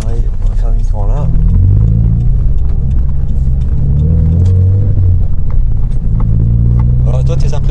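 A car drives and swings through a U-turn, its engine rumbling loud and close from inside the cabin while people talk over it throughout.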